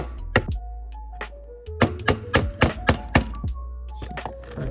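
Hammer striking a screwdriver during engine repair on a 2014 Ford Focus SE while replacing VVT solenoids and gaskets, a series of sharp metallic thunks, one early then a quick run of about seven close, loud hits, with no talk.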